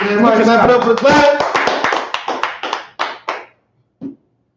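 A small group claps, the applause fading to a few scattered, slowing claps, with one last clap after a short silence.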